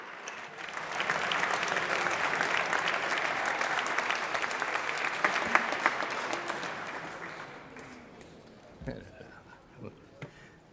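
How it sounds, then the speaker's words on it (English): Colleagues in a legislative chamber give enthusiastic applause for a Massachusetts representative's farewell speech, a full swell of clapping that fades away, leaving scattered claps and murmuring. "I'd like to think the enthusiastic applause were for me"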